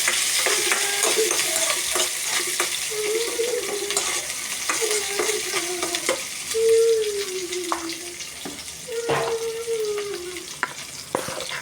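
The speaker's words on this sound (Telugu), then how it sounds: "కరివేపాకు వేగిన తర్వాత ఆనియన్స్ వేయాలి ఆనియన్స్ వేసి బాగా ఫ్రై చేయాలి" Onions and curry leaves fry in a pan with a constant close sizzle, broken by occasional stirring scrapes and clinks, and a few faint tonal squeaks rise above the frying.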